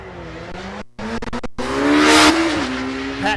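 A 1,300 cc Suzuki Hayabusa motorcycle screams through a drag racing run at a dragstrip, its engine note climbing through quick gear changes with brief cuts before a loud sustained roar.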